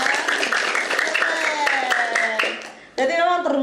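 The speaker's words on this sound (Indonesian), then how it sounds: "Oh, tepuk tangan dong" A group of children clap their hands at a school scout (Pramuka Siaga) gathering. Dense, lively clapping mixes with excited young voices and then cuts off before a brief burst of children's chatter.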